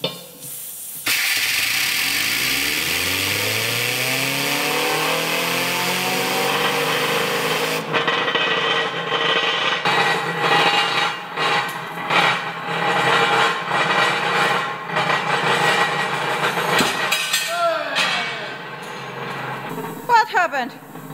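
Spinning tops, Beyblade-style spinners, rev up, a loud whirring hiss that rises in pitch and then breaks into rattling, scraping buzz, with a voice speaking over part of it.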